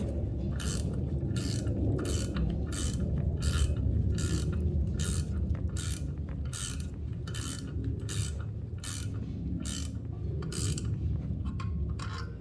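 Ratchet tightening a valve part on a 5.3 engine rebuild, rapid evenly spaced clicks in a steady run over low mechanical rumble, close and alone with no talking.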